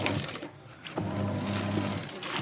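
A single-tub washing machine runs steadily with a continuous motor hum and churning, dipping briefly before resuming at a moderate, close level.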